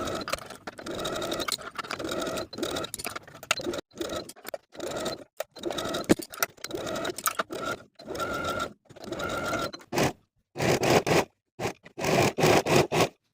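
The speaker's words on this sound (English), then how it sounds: "Now we're going to sew the skirt to the dress with a 1/2 inch seam allowance" A sewing machine runs in repeated bursts with short pauses between them as it joins the skirt to a drop-waist dress along a half-inch seam.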